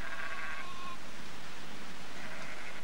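Sheep bleating, one wavering call at the start and another near the end, set against a steady outdoor noise background.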